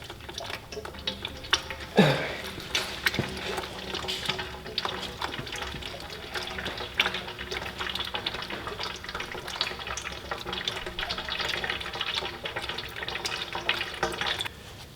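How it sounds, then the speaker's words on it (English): Engine oil drains from a Ferrari F430 during an oil change at home, a steady trickling, splattering liquid stream with drips, close and continuous, with scattered clinks in the background. "Little oil drippage, not too bad."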